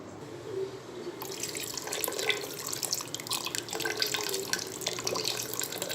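Cornflour-and-water slurry is poured into a pot of mutton nihari curry. A steady, close, splashing liquid pour begins after about a second and runs continuously to the end, with no talking.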